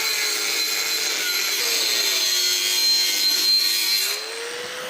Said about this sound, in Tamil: இதில் கரெக்டாக ஒரு 6 அடி அப்படி மார்க் பண்ணி அப்படியே கட் பண்ணி எடுத்துக்கிறேன்.